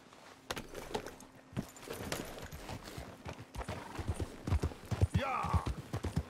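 Horse hooves clip-clop in Red Dead Redemption 2, an irregular run of thuds and clacks as a restless horse moves about, with a short whinny near the end and a voice talking now and then.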